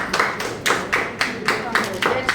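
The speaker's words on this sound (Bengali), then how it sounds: "সবার যে অনুরোধ করবো শান্তনুর জন্য একটা জোরে হাততালি দেওয়া" A few people clap in a slow, loose rhythm for the first donor at a blood donation camp in a blood bank, with about six distinct rounds of claps close by.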